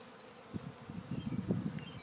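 Honeybees buzzing during the installation of a five-frame nuc, a steady low drone with individual bees flying close past, louder and more varied toward the end, with no talking.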